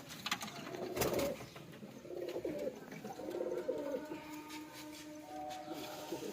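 Pigeons in a home loft give soft, low, repeated coos, fairly close but quiet, with faint background rustle and no talk.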